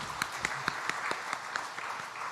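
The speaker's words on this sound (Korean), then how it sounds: "하나님께 영광의 박수를 올려드립니다." Worshippers at a church service applaud together, a steady wash of clapping with a few sharper hand claps standing out.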